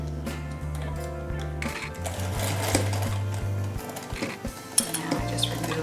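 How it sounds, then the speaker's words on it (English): A sewing machine stitches elastic onto a fabric medical face mask, its motor humming in a steady rapid chatter with brief pauses and light metallic clinks, close by and with no voices. "So we'll go back to the sewing machine with it."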